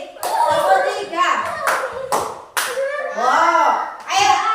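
Young children in a classroom clap in short, sharp bursts, several hand-claps in quick sets, loud and close, while an adult and kids talk between and over the claps.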